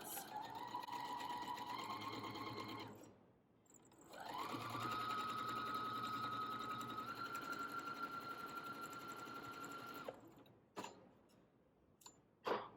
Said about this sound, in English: sew the smallest strip to the side of our 5-inch block using a 1/4 inch seam allowance